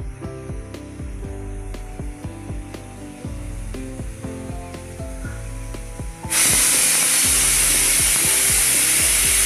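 A pressure cooker cooking ghugni builds up to a loud, steady blast of hissing steam from its whistle, preceded by a rhythmic clattering and rattling of the weight.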